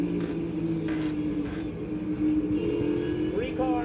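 NASCAR race cars accelerating at Watkins Glen, a loud continuous engine roar with rising revs near the end, heard from riding along, with talk over it.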